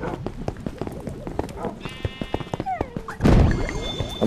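Sheep bleats from the video game Minecraft Dungeons, a few short cries over busy in-game clatter and effects, ending in a loud burst of game noise.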